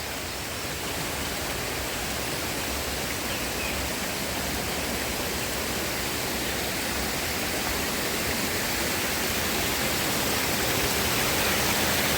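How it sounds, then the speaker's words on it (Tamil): A forest stream with a waterfall pours steadily into it, a dense, continuous rushing roar that grows slightly louder, with no voices. "அங்கேருந்து வர ஃபால்ஸ் அப்படியே வந்து இங்கே வந்து அப்படியே ஜாயிண்ட் ஆகி அப்படியே போகுது"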